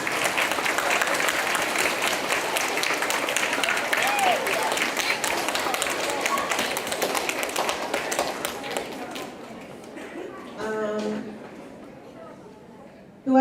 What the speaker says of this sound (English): Now let's give our BiPod a round of applause.